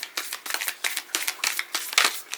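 Tarot cards are shuffled by hand in a steady run of crisp, close riffling flicks and soft slaps, with no voices over them.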